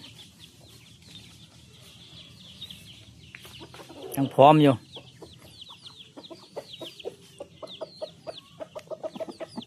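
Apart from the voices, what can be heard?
chickens clucking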